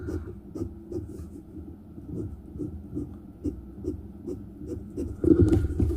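A Montblanc Meisterstück 149 fountain pen with an extra fine nib scratches across paper in quick repeated strokes, a light rhythmic scritching close up, with a louder shuffle at the end.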